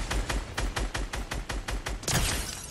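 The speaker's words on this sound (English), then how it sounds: "Why is he shooting me?" Rapid automatic gunfire in the Fortnite Battle Royale video game, about ten close, evenly spaced shots in a quick burst ending in a louder crack, with no talking.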